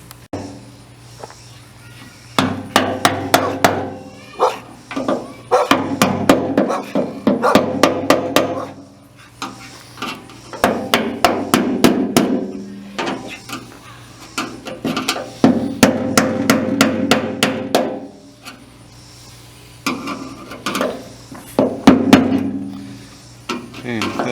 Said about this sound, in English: I'll just tap it into place with a screwdriver.